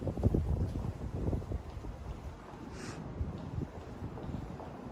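Cold wind gusts across an outdoor microphone on a Sunday street in Ryogoku, producing steady low rumbling buffets that swell and ease, with no speech.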